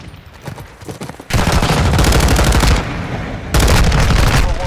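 Bursts of rapid automatic gunfire in a Call of Duty DMZ match, loud and close, with sustained rattling volleys broken by a brief pause before another burst resumes.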